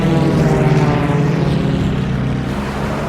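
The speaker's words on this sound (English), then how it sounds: "Odette and Guynemer roll right and pull into each other again" World War I fighter planes with propeller engines drone loudly through a dogfight, a continuous throbbing roar that fades slightly as it goes on.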